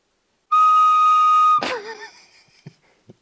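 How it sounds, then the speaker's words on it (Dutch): A plastic recorder flute plays one sustained, piercing note for about a second, then breaks off into a squeak and wavering tones, followed by a couple of faint soft knocks in otherwise quiet surroundings. "Het is eigenlijk gewoon een fluit."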